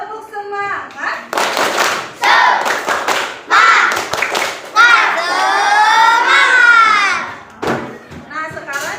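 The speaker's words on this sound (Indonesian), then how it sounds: "Coba tepuk semangat." Primary school classroom children performing a rhythmic spirit clap, loud sharp group claps landing in patterned bursts, mixed with children's chanting voices close by.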